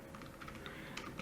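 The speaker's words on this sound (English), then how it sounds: "So I'll type in here" Rapid, quiet typing on a computer keyboard, a steady patter of light key clicks heard close up with no talking.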